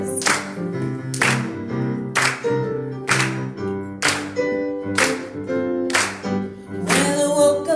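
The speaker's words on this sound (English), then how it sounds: "Put your hands clapping just like this" Church congregation clapping along to a gospel song at a Sunday service, sharp unison claps in a steady beat about once per second, over sustained sung and instrumental tones.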